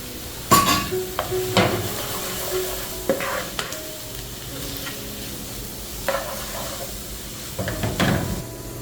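Green chili and onion fry in a pan for a tuna cutlet, with soft sizzling under repeated clanks and scrapes of a spatula stirring against the pan at irregular intervals.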